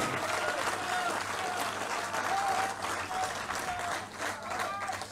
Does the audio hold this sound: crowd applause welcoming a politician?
yes